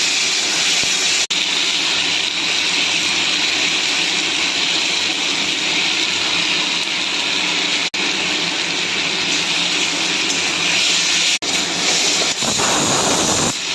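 Ridge gourd, green chilli paste and small vegetables fry in a pan for a Bengali hilsa fish curry, giving a loud, steady, continuous sizzle and hiss that runs unbroken and close up.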